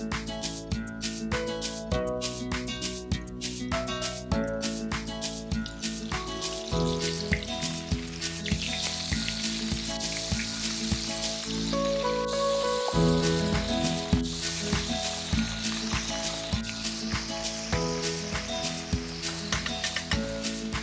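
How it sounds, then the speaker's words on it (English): Floured calamari frying in oil, a dense crackling sizzle like rain that runs steadily throughout, with background music playing over it. "So we have to remove the excess flour like this, and then we are going to fry them."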